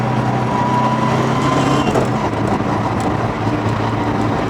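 Loud, steady engine drone from an NA Miata fitted with a GearMotive ZF dogbox, sustained under load with a slight dip near the two-second mark that suggests a quick gear change, no talk.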